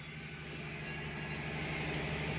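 A Honda Civic Dimension with a D17 engine sits idling while overheating, giving a steady, even hum with a low drone that stays constant throughout.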